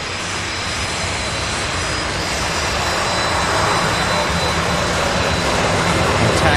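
A large jet airliner on landing approach at Louisville International Airport, its engines a loud, steady roar that swells slightly as it nears, with no talk over it.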